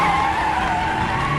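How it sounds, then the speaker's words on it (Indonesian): Tires on a Nissan GT-R with worn front tires skid and squeal loudly during an anime car race, a sustained high screech over engine noise with no talk. "ban depan milik Aiba sudah lebih aus dari perkiraannya, sehingga tidak bisa dengan lancar mengendalikan mobilnya"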